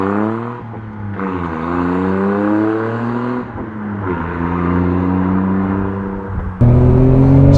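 Japanese 1990s Suzuki Cappuccino on coilovers driving, its small engine revving up through gears with rising and falling whine, shifts audible as dips, loud and close with a sharper surge near the end.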